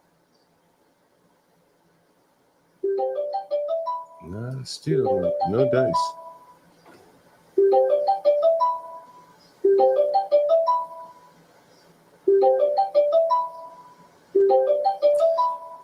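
A repeating electronic ringtone rings in regular bursts of rising chimes, loud and clear, with a brief pause between each cycle and a voice talking over it early on.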